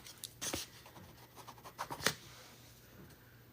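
Pen or pencil scratching across paper in short, quiet strokes with a few louder scrapes, close by with no voices.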